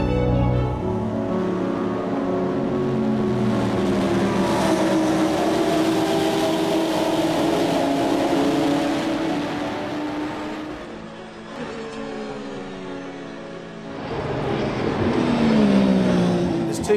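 Race cars at the Petit Le Mans endurance race at Road Atlanta, including a Porsche 911 GT3 R Hybrid, produce a continuous loud engine roar that rises and falls as cars pass and accelerate, with commentary voices talking over it.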